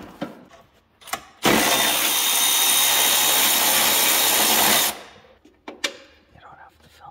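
An impact or power tool runs steadily for about three and a half seconds, undoing 10mm bolts on the caliper of a 2018 Yamaha Sidewinder snowmobile, loud and close, with clanks and handling noises before and after.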